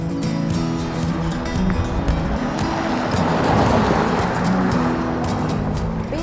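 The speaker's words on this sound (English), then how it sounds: "Now it's time to take it for a drive." A BMW 7 Series ActiveHybrid 7 saloon is on the move, with a steady, continuous rush of road and engine noise that holds at an even, fairly loud level throughout.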